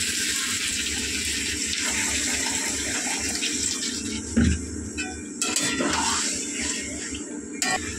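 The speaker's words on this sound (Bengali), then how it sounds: "এবারে কিন্তু আমি এর মধ্যে জল অ্যাড করব।" Water poured from a tap or jug into a pot of thick, fully cooked-down curry, a steady continuous gush with a brief splash and a few clunks partway through.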